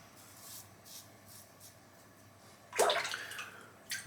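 A vintage safety razor is rinsed under running water, a short burst of splashing after a quiet stretch of faint taps, then a brief second splash, with no voices.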